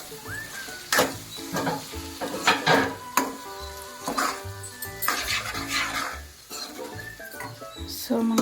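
Tomatoes frying for an egg and dry fish curry sizzle steadily in a pan while a spoon scrapes and clinks against the metal in irregular strokes, loud and close, with no voices.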